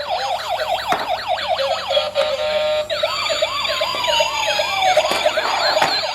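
A loud, wailing ambulance siren sweeps up and down continuously, with a second siren tone overlapping partway through, close by and with no voices.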